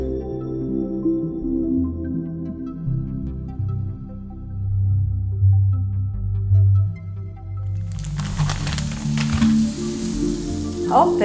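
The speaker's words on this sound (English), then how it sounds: "Our marinating paneer burgers, let's go ahead and put them on." Marinated paneer burgers hit smoking-hot ghee, first a low hum under quiet talk, then a sudden bright, loud sizzle that bursts up and keeps crackling.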